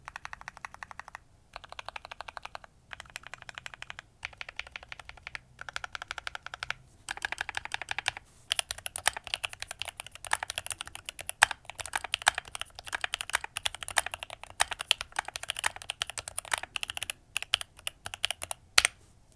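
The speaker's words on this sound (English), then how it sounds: "I think this keyboard sounds and feels really great when you type on it" Someone types on a custom mechanical keyboard with lubed switches, giving soft, quiet, close clacking keystrokes in uneven bursts that speed into steady continuous typing, with no voices.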